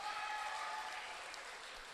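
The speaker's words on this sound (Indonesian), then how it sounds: "untuk anak-anak kita tepuk tangan dulu" Audience clapping for the children at a school vocal group competition, a steady broadband patter of many hands sustained for about two seconds at moderate level.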